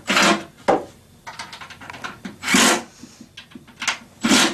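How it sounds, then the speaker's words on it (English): Screws being snugged into a wall cabinet during kitchen cabinet assembly give off short scraping, rubbing bursts from driver and wood, irregular and close, with pauses between turns. "And snug up all the left and right screws."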